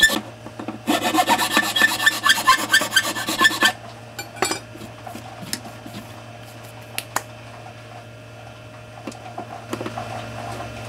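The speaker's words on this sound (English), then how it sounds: "This file is cutting through the fiberglass really quick." A hand file cuts through fiberglass with a burst of fast, rasping back-and-forth strokes that are close and loud. The strokes then give way to sparse, scattered scrapes.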